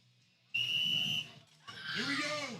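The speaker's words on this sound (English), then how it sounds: "Whistle." A sharp, steady referee's whistle blast at a Pro-Am athletics competition signals the start of an event, holding clear for about a second before crowd noise and a loud announcer's voice take over.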